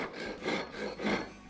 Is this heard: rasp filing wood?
yes